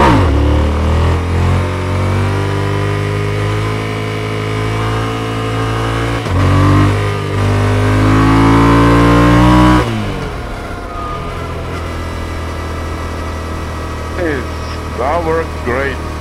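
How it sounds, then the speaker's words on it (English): A Tenere 700 motorcycle engine revs hard and close during a wheelie on a single-track trail, its pitch climbing over about ten seconds before easing back to a lower, steadier drone. "let's do another one of those nice wheelies"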